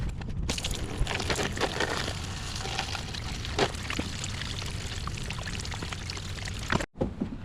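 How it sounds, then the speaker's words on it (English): Engine coolant drains steadily from a car's cooling system during a thermostat replacement and flush on an Alfa Romeo, a constant close pouring and trickling that breaks off briefly near the end. "While we are waiting for the coolant to drain"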